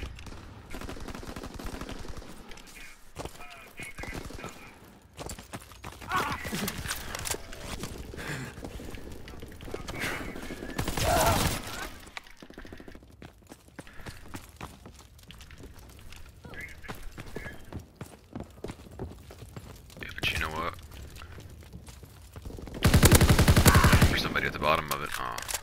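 Gunfire in Call of Duty WWII free-for-all play: bursts of rapid shots and scattered single cracks run throughout, with loud close volleys near the middle and at the end, mixed with game noise and other sounds.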